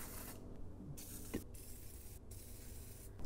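Penetrating oil hisses from an aerosol can onto a Jeep WJ QuadraDrive axle or transfer case bolt in several short, steady spray bursts, faint and close, with no talking.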